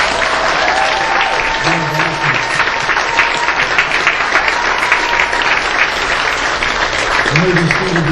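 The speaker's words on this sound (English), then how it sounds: "Let's give him a round of applause." A congregation at a Memorial Day Sunday morning church service gives a round of applause. The clapping is loud, dense and continuous from start to finish, with cheering and voices mixed in.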